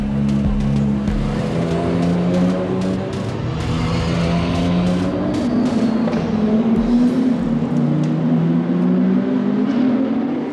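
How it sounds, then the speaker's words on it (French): GT race cars rolling out onto the track for the formation lap at Circuit Paul Ricard, Le Castellet; several engines drone together in a loud, continuous, slowly rising roar with no voices. "Derniers instants de concentration pour les pilotes avant de prendre la piste pour le tour de formation."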